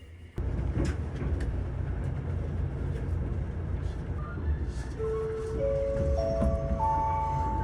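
A Nankai limited express Koya train runs on the line to Mount Koya, a steady low rumble of wheels and motors, with rising whining tones toward the end.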